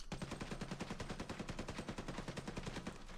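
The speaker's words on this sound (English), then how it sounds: "But covering fire, let's do that once more." Sustained rapid automatic gunfire from Nick Fury's covering fire ability in Marvel Heroes Omega, a steady rattling burst of evenly spaced shots continuing without pause.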